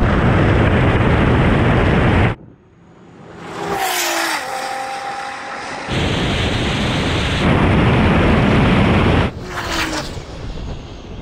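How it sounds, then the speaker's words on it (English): A Porsche 911 Turbo S and a Nissan GTR launch off the line in a drag race, with loud roaring engine bursts broken by sudden drops and rising whines as the cars pull away. "The Porsche shoots off and gets ahead of everybody."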